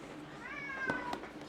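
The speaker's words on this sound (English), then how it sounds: "Oh, my cat is crying." A cat meows faintly in the background, a drawn-out wavering cry followed by a shorter call, low in level within a quiet room.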